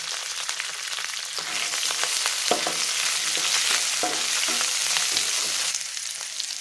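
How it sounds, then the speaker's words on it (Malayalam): Curry leaves, ginger, garlic, thondan chillies and green chillies sauté in hot oil for a coconut-based egg masala curry. The sizzle is steady and close, with occasional utensil clinks from stirring, and no one speaks. "അത് മൂത്ത് വരുമ്പോൾ കറിവേപ്പില, ഇഞ്ചി, വെളുത്തുള്ളി, തൊണ്ടൻ മുളക്, പച്ചമുളക് എന്നിവ ചേർത്ത് 1 മിനിറ്റ് വഴറ്റാം."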